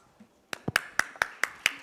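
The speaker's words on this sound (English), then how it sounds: "Big round of applause for Priyana." Applause for a performer at a live show, heard as a faint lone pair of hands or a few clappers striking about six distinct, evenly spaced claps, quiet and close, with no talk.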